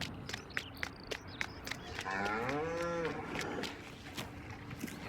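A cow in the farming game Farming Simulator 19 gives one long, clear moo in the middle, with light footstep-like taps and clicks around it.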